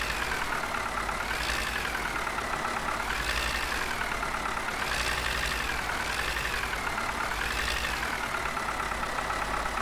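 Tractor engine idling in the Farming Simulator 15 video game, a steady low droning rumble with a slowly wavering mid tone, continuous and unchanging with no speech.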